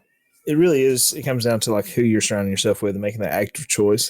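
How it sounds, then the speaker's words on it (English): A cat meows under a man's close, steady speech. The meows blend with the talk and are hard to pick out. "You can probably hear my cat meowing in the background."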